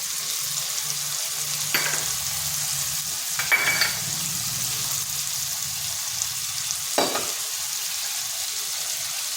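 Ground spice paste sizzles steadily in a hot pan for a fish curry, a constant frying hiss broken by a few sharp scraping stirs of a spoon.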